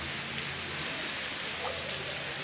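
Heavy rain pours steadily onto a flooded street in Maputo, a constant dense hiss of drops spattering on water with no pauses, close and enveloping.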